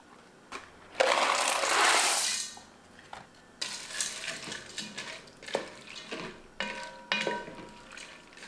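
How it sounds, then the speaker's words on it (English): Dry chickpea rotini poured from a box into a metal pot, a dense rattling rush lasting about two seconds, followed by scattered clinks and light knocks of the pasta and utensils against the pot. "Next, I'm going to add a box of this chickpea rotini"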